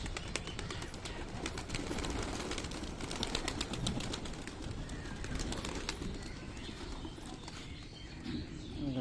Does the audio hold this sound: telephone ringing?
no